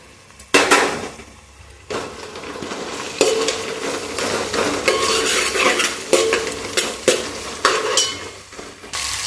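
Masala with slit green chilies and bay leaf frying in a pot, a steady sizzle broken by repeated scraping and clanking stirs of a metal spoon, close and fairly loud.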